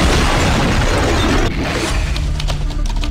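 A rocket warhead carrying 56 kilograms of explosives detonates on an aircraft carrier deck, giving a loud, sustained roaring blast that rumbles on heavily, then eases into lower crackling debris sounds and a steady hum.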